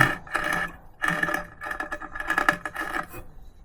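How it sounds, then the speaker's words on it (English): An old grinder wheel in an abandoned dental clinic is turned and handled, giving repeated close scraping, rubbing bursts in an uneven rhythm. "This is a grinder of some sorts. Look at this old wheel."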